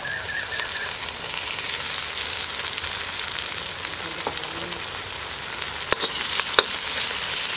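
Onions with ginger and garlic sauté in a pan for mutton kuzhambu, an even, moderate sizzle throughout with a few sharp utensil clicks near the end and no voices.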